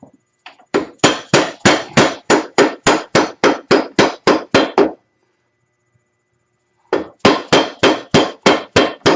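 A hammer strikes a ball joint on a 2008 Arctic Cat ATV in a fast, steady run of loud, close metallic blows, pauses for about two seconds, then resumes at the same brisk rhythm.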